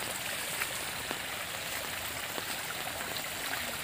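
Steady rain falls outdoors during a high-up hunt for a dangerous insect nest, a dense, even hiss that runs unbroken throughout with faint scattered drips and no talking.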